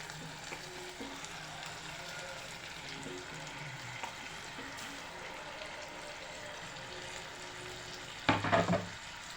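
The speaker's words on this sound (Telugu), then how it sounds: "ఇందులోకి టమాటో వేసేసుకోండి." Tomatoes hit a hot pan of curry base with a low steady sizzle throughout, then a brief louder burst of stirring and scraping near the end.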